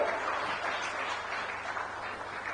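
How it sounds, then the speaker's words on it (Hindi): Applause for Shyam Bihari during a Hindi-language public address in Chhattisgarh on the Ayushman health scheme: a steady, dense wash of crowd clapping that holds at an even level throughout. "एक बार जोरदार तालियां श्याम बिहारी जी के लिए"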